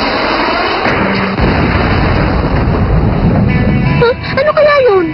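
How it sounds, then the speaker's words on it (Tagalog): A loud, rumbling blast bursts out and lingers, with people talking over the noisy aftermath. "parang may kung ano sumabog dun, ha?"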